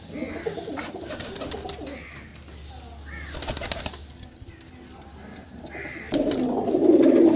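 Pigeons being shown for sale coo softly and flap their wings close by, with short bursts of wingbeats and a louder flurry of cooing and wing noise near the end, without speech.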